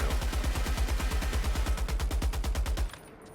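A heavy, hard-recoiling weapon in Helldivers fires a rapid, steady burst of loud, close shots that stops abruptly near the end.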